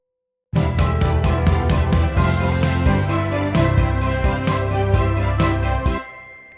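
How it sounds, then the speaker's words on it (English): Doubled sleigh bells jingle brightly in a Christmas pop music cue, shaking in a rhythmic, on-beat pattern over a full band backing before cutting off abruptly near the end. "I've also doubled the sleigh bells at the end here"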